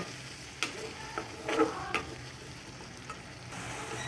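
Soaked ground cumin, coriander, Kashmiri chilli and turmeric frying in a pan, with a faint steady sizzle broken by several short knocks and scrapes of stirring.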